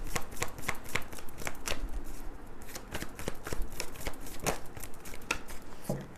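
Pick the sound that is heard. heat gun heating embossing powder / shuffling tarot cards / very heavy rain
shuffling tarot cards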